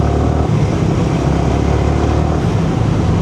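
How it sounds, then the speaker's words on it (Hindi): Many motorbikes pour through city traffic when a red light turns green, their engines forming a loud, steady, continuous roar close by. "यहाँ पे इतना बाइकें निकलती है भाई, ये देख लो तुम, बाइक ही बाइक है भाई एकदम।"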